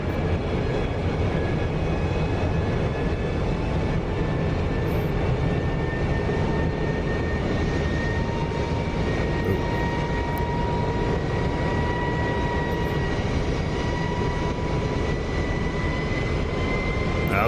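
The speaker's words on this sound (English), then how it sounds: "Let's go one more flyby, why not?" Simulated F-106 Delta Dart jet in DCS flying past at about 470 knots, a steady, loud broadband roar with faint whining engine tones held throughout, no talking.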